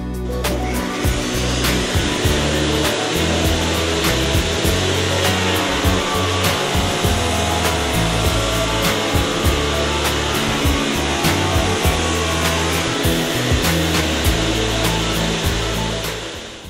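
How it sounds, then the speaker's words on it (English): A table saw fitted with a dado stack cuts a roughly half-inch-wide dado, a steady loud whining roar from the blade running for the whole stretch, close and continuous, with no speech. "We'll remove the fixture from the saw and make our first cut."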